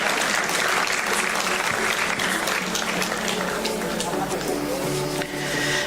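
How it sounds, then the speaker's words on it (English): Sustained audience applause at an international conference ceremony fills the room as a dense, even wash of many hands clapping, with crowd murmur and a voice faintly heard beneath it throughout. "Can we have a big round of applause from our august gathering?"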